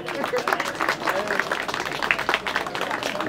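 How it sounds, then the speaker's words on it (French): Audience applause at a live hypnosis show in Fontainebleau, steady dense clapping from a crowd that fills the whole moment, with a voice speaking faintly over it. "On peut l'applaudir, je pense."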